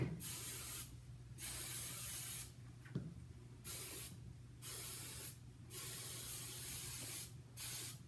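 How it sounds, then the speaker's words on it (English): Hairspray hisses from an aerosol can onto hair being smoothed into a low ponytail, in about six close bursts of one or two seconds each, separated by short pauses with faint handling noise and no talking. "Spraying and smoothing so you see you have a nice smooth pony."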